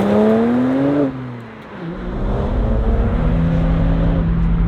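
A BMW 1M pulls away onto the road, its engine note loud and close, with a brief dip before the revs build again in a steady rising drone.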